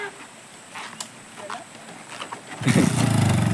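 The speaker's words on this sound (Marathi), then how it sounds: "गाडी स्टार्ट केली आहे." A motorcycle engine starts on a village track beside farmland: faint clicks and scrapes first, then the engine catches and settles into a loud, close, steady running rumble.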